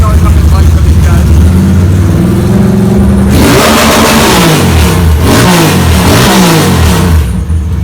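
A custom Ducati 959 Panigale motorcycle engine starts and revs hard, rising and falling in sharp loud bursts after an uneven idling rumble, very close, with voices over it.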